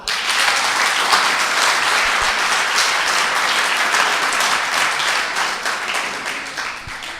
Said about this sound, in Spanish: una vez más, quiero que le den un aplauso al Señor.